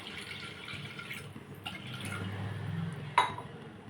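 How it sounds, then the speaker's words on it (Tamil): A tumbler of water poured into a clay pot for cooking keerai kadaiyal: a soft, low splashing fill that swells over a few seconds, then a sharp clink of the glass against the pot near the end. "அதுக்கு ஃபஸ்ட்டு நான் ஒரு டம்ளர் தண்ணி ஊற்றிக்கிறேன்."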